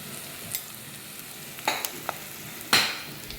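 Masala and turmeric sautéing in a pan for a prawn and okra curry, with a faint low sizzle broken by a few sharp spoon scrapes and clinks against the pan.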